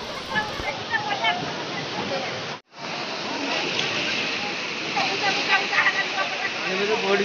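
Falling water pours in a loud, steady broadband rush near the listener at a place near Digha beach, with a brief dropout midway and faint voices underneath.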